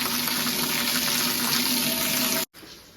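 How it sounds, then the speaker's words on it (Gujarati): Water sprays and splashes hard from a tap, a loud, even hiss lasting nearly three seconds before it abruptly cuts off, followed by quieter dripping. "આ જો ને આ પાણી આ ઉડે છે બધે."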